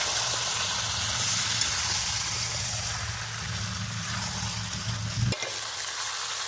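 Chicken being stir-fried in oil for a village-style chicken curry with papaya, a steady close sizzle and scraping stir running throughout, cut off abruptly near the end.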